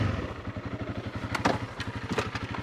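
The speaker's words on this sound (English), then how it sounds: "start the bike" A Honda CRF300L Rally motorcycle idles with a steady, low, rhythmic thrum, heard fairly quietly and close by, with a few faint clicks on top.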